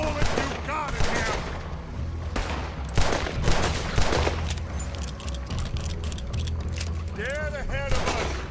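Gunfire rattles in the video game Red Dead Redemption 2, repeated sharp close shots in irregular volleys over a steady game background, with a shouted voice and other vocal sounds mixed in.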